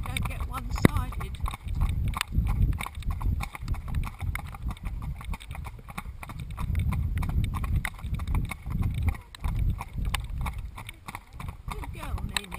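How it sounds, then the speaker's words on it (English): Horse hooves clip-clop at a trot during an outdoor ride, a rhythmic, fairly close beat heard under a person talking. "it's best to start riding on both diagonals in the trot so they don't get one-sided"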